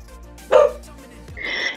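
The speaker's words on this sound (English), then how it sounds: "Barky doggy." Excited dog barks nearby, a sharp loud bark followed by a higher yelping bark, amid background sound of a home with players gathered for a tabletop role-playing session.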